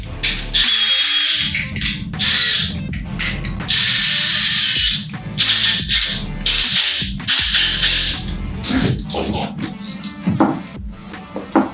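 A drill with a 1.5-inch hole saw whirs in repeated bursts cutting a Yamaha YZF-R6 motorcycle fairing, cutting on and off with ratcheting, grinding noise between pauses.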